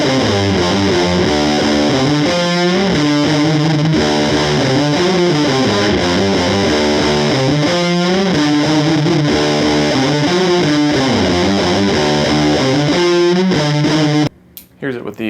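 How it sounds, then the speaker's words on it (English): Electric guitar played through a Donner Harmonic Square pitch shifter stacked with a Donner Stylish Fuzz pedal, giving a loud, thick, distorted tone with shifted harmony layers under steady chord and riff playing that stops abruptly near the end. "let's hear what it sounds like when we turn on the Harmonic Square with the stylish fuzz"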